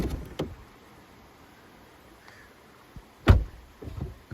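A frameless door on a 2022 Peugeot 508 PSE shuts with one solid, close thud near the end, after a few lighter clicks and handling noises in an otherwise quiet cabin.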